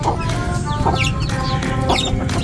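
Silkie chickens cluck and chatter close by in a busy, overlapping stream of short calls, with faint higher peeps mixed in.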